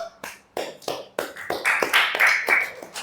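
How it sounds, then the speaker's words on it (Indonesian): A group of students in a classroom claps in short, sharp bursts of applause, a series of quick rhythmic claps that thicken and overlap toward the end, fairly close and clear. "Untuk kelompok ini kita berikan aplaus karena sudah betul semua"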